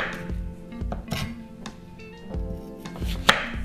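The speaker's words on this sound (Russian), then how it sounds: "Картофель режем тоже крупно." Potatoes cut into large pieces with a knife on a cutting board, giving a rapid series of close, sharp chopping thuds with a slight clink.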